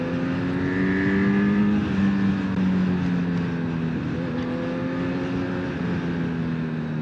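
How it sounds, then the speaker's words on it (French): A 2025 Honda CB1000 Hornet SP motorcycle with its stock exhaust gives a steady, loud engine drone with rising and falling pitch as it rides along, without talk. "on est en échappement d'origine. La moto, elle fait un son, c'est magnifique."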